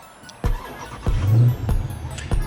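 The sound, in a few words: Dodge Challenger Scat Pack 392 engine starting up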